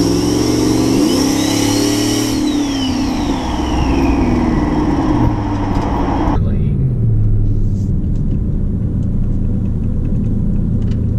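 A turbocharged engine in a Chevy Silverado revs hard and builds boost, a loud rising mechanical roar with a whining turbo that climbs then cuts off, followed by a steady rumble, with voices talking over it.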